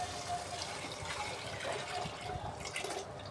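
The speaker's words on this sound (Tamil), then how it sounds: "இப்போ இந்த நேரத்தில் நம்ம எடுத்து வச்சுருக்க இந்த புளி கரைசலை இதில் ஊற்றிக்கலாம்." Tamarind water poured into a simmering fish curry, a steady close liquid pour and splash running continuously over the whole stretch with no talking.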